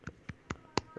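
Four sharp finger snaps spaced evenly about a quarter second apart, crisp and close, with no other sound between them.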